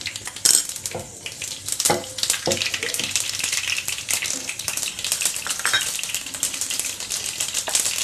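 Mustard seeds spluttering and popping in hot coconut oil for Kerala-style erissery, a dense run of sharp crackles and pops over a steady sizzle, close and fairly loud throughout.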